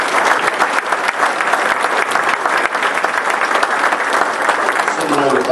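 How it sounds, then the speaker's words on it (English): Audience applause at a Delta Regional Authority announcement during a Cape Girardeau Chamber event: dense, sustained clapping from a crowd, loud and continuous without a break. "Would you give them all a round of applause?"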